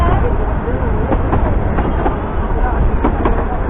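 A narrow gauge train rolls smoothly through Cornish countryside, giving a steady, loud rumble and faint rhythmic clatter of wheels from inside the carriage, with no one speaking.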